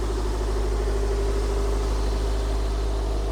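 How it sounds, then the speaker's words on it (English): A 2003 Toyota MR2 Spyder TRD with a 5-speed idles steadily at slightly raised revs after a cold start, a constant close engine hum with no talk. "Let's hear the engine. As you can see, it's a cold start, so the RPM is still a little bit higher"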